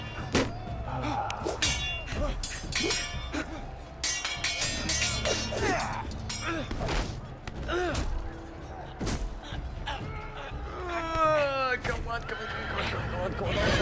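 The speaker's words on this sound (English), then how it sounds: "Horses!" Horses in the Telltale Game of Thrones video game neigh and whinny repeatedly amid clopping hooves, thuds and clangs, with people talking over the commotion.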